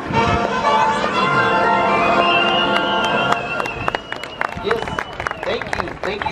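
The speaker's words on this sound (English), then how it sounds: "Applause." An audience applauds at an Epcot show in Walt Disney World, a broad steady wash of clapping over lingering music and crowd noise that thins into scattered claps and voices.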